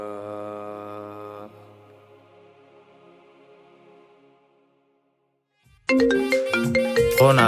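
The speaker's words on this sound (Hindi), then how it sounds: "फोन आ गया, देखो किसका आ गया।" A tonal phone ringtone melody plays for a moment, fades into near silence, then a bright burst of music or voices cuts in loudly.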